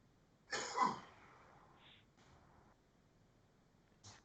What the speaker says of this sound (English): He's coughing. He's coughing.